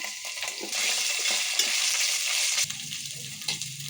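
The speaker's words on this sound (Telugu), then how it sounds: "ఆనియన్ వేగిన తర్వాత అల్లం వెల్లుల్లిపాయ పేస్ట్ వేయాలి, 1 స్పూను." Ginger garlic paste hitting hot oil with browned onions for haleem, a loud continuous sizzle that swells sharply, then settles into a softer frying hiss with faint stirring.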